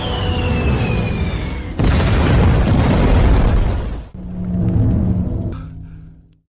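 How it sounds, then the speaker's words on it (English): A missile explodes in a naval battle with a heavy, rumbling boom that swells and roars for several seconds, followed by a second, lower rumbling blast that fades out. "One last missile to end you."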